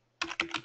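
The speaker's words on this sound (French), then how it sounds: "on tape du texte" Keys on a computer keyboard are struck three times in quick succession, each tap crisp and close, with a brief plastic click.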